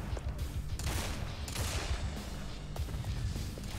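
Shotgun fire in the video game Ultra Despair Girls, dense loud gunfire and blasts layered over busy game sounds with no clear pauses, a few sharper reports standing out through the clip.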